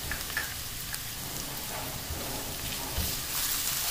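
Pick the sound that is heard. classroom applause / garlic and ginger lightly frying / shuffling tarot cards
garlic and ginger lightly frying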